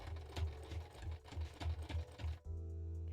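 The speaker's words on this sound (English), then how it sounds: "we are close to the end of this round of sewing" Sewing machine stitching cosplay pieces, a steady rhythmic run of needle strokes up close that stops near the end and gives way to a low steady hum.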